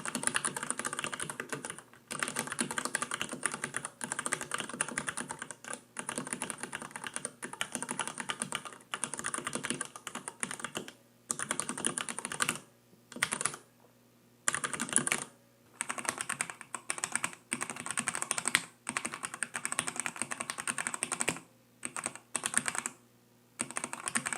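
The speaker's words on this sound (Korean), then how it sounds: "이 리니어 키보드들에서 용수철 소리가 생각보다 많이 납니다" Rapid typing on a Leopold FC900R PD keyboard with red linear switches clatters continuously with short pauses, the keystrokes close and crisp with a faint springy ping behind them.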